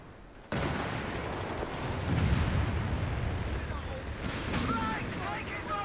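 Cannon and artillery fire rumble in Company of Heroes 3, a sudden heavy blast followed by sustained booming and battlefield noise, with voices speaking over the din.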